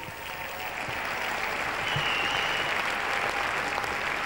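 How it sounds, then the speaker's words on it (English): Sustained, dense applause from a crowd at the 2001 European dance championship in Finland, greeting dancers as they leave the floor, loud and steady throughout. "The crowd have just loved it, and they're showing their appreciation as the dancers leave the floor for the last time."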